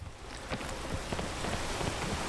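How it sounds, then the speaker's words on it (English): Rain in the video game PEAK, a steady, dense patter of drops with soft irregular splashes, close and moderately loud, continuous for a couple of seconds. "Oh, damn this rain."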